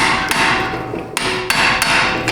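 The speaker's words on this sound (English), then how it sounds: "I like to crack them loose with an impact driver" An impact driver loosening brake rotor screws on a 2019 Kia Optima with a 2.4 engine, giving several sharp, loud hammering bursts in quick succession over a steady mechanical whir, with no talk.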